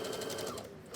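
A sewing machine runs steadily, stitching the fly seam of a pair of pants with a fast, even mechanical whir and rapid needle pulses, close and continuous with no talking.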